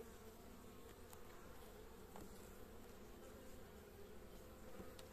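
Honeybees buzz steadily around a beehive in an apiary, a continuous dense hum close by that fills the whole clip with no talking.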